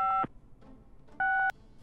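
Two separate dual-tone keypad beeps play as a phone number is dialed in the Gabriel Knight video game, each short and clear, with a pause between them and no talk.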